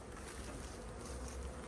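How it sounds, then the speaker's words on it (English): Honey bees swarm thickly over the top of an opened hive, a dense, steady buzz filling the moment, loud and close with no pauses. "Lots of bees at the top, so I'm just going to smoke them off the queen excluder."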